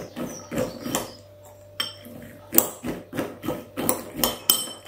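Peanuts stirred with olive oil in a bowl, a spoon or utensil knocking and scraping against the sides in an irregular series of clinks and taps, fairly close and unaccompanied by talk.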